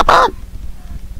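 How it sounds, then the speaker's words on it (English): A single short, sharp squawk as a chicken is struck in Minecraft with the Tekkit Galacticraft mod, loud and close, then only faint low background rumble. "Just going to kill off a couple of chickens."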